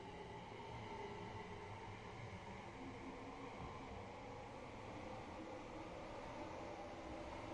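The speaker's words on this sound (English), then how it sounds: "there goes 392125 heading over to London Euston" A continuous low rumble of a train moving steadily through Milton Keynes Central station on the West Coast Main Line, a constant rolling roar without breaks, fairly faint and distant.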